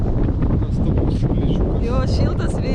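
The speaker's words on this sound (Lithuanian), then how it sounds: "Bet kažkaip šiltas vėjas." Warm beach wind buffeting the microphone in a steady, loud roar, with people talking over it.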